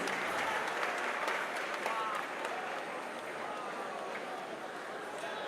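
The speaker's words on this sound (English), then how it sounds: "Ladies and gentlemen, a round of applause for our brilliant 11-year-old artist" Audience applause and cheering for an 11-year-old artist at the New Afrika Shrine, a dense crowd wash filling the room, strongest at the start and settling slightly lower, with voices mixed in.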